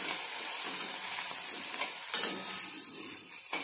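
Mashed brinjal bharit is stirred in hot oil, a steady close sizzle with soft scraping and a couple of brief utensil clinks near the end.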